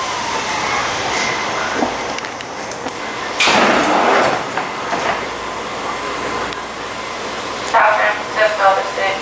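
Caltrain 431 electric train motors run with a steady rumble and hum, a louder surge midway and rail clatter, with a sliding-door sound near the end.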